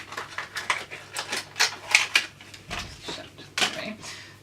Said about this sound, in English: these are some new scissors because my old ones ended up getting worn out. So just grab these out of the packaging